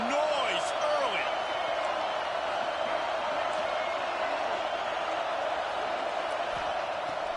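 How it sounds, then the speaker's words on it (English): Dense, steady roar of a large football stadium crowd at a Nebraska game, loud and continuous with a broad wash of cheering and no distinct breaks. "This crowd bringing the energy and noise early."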